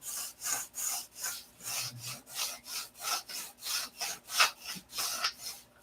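Hand-sanding molded balsa wood: a steady back-and-forth rasping rub, about two strokes per second, close and fairly quiet, running continuously with no talking.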